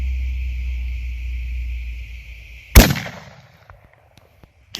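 A single loud rifle shot rings out during a cow hunt on an Arizona homestead, preceded by a steady low engine-like hum, then a sharp crack whose echo trails away into quiet, with a few faint clicks afterward.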